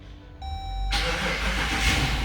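A 2014 Dodge Durango with a newly replaced starter cranks briefly and catches, then settles into a steady close engine idle.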